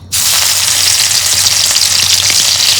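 Onion paste and spices hit hot oil in a pan, giving a loud, steady sizzle that starts abruptly and keeps frying evenly throughout, with no voices.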